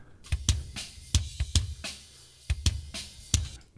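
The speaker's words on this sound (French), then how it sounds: "voici le son du kick original" Punchy kick drum hits fire in an irregular pattern, each a deep thump with a sharp click on top, heard alone without any voice.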